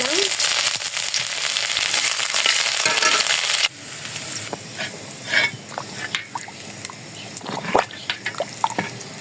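Bay leaf, five-spice seeds and ginger hit hot oil with a loud, close sizzling burst that then settles into lighter crackles and spitting pops, with no talking.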